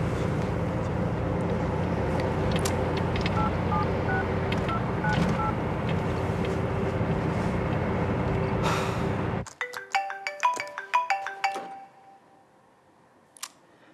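Telephone dialing tones sound as a call is placed, a quick series of short keypad beeps heard close after a stretch of steady ambient noise.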